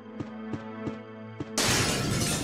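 Glass shatters loudly in a horror video game, a sudden bright crash that bursts in after several low rhythmic thuds and fills the rest of the moment with a sustained, scattering smash.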